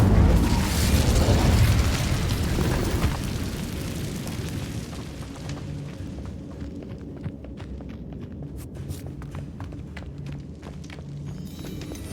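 A Bombarda blasting spell in the Hogwarts Legacy video game sets off a loud, rumbling explosion that slowly fades into a quieter room tone scattered with sharp clicks and debris taps.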